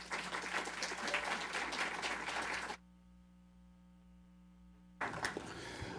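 An audience claps to welcome a lecturer at a talk on beer politics in Iowa. The steady, dense applause breaks off for about two seconds into near silence, then resumes.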